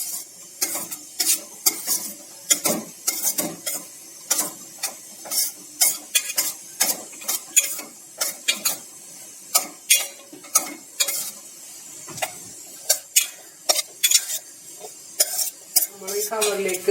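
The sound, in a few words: stirring potato pieces with cornflour for potato chips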